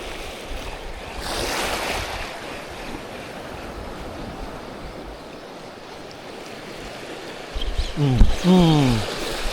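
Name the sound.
ocean waves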